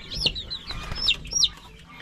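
A red ginger hen on a farm gives a few short, sharp high clucks and squawks, close by and fairly quiet, spread over a couple of seconds with no talk.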